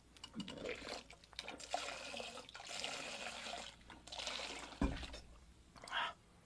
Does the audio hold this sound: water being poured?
yes